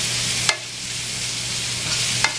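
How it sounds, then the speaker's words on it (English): Drippings for smothered pork chop gravy fry in a pan with a loud, continuous sizzle and a low steady hum, broken by two brief scrapes of a utensil, heard up close without speech. "So all I'm gonna do is just fry this up a little bit."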